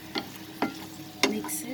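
Chicken sautéing in a hot pan, three distinct spatula scrapes and stirs landing over a continuous soft sizzle.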